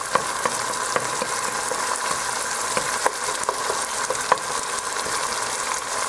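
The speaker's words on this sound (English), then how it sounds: "Now I smash my tomatoes in there a little bit." Tomatoes being smashed into a pot of beef pilau with steady frying sizzle throughout and occasional sharp clicks of a utensil against the pot, close and continuous with no talking.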